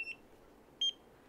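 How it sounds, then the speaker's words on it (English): A handheld skin care device gives short, faint, high-pitched electronic beeps, one at the start and another near the end, in a quiet room with no talking. "When you hear the second beep, then you know it's done and you move on."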